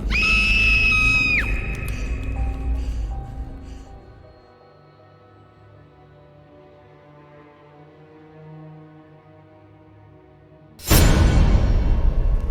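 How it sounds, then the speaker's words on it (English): A single loud scream rings out in a neighborhood at the start, followed by quieter low sounds and a sudden loud whoosh near the end. "Somewhere else in the neighborhood, someone screams."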